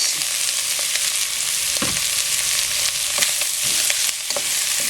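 Sausage being sautéed in oil for macaroni soup, a loud continuous sizzle close by, with intermittent stirring knocks and scrapes.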